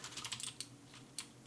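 Computer keyboard keys are pressed in a short burst of quick clicks, then two more isolated taps, close and crisp with no voices.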